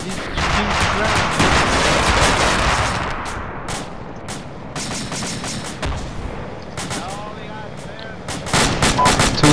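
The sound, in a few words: soldiers firing guns in the video game Arma 2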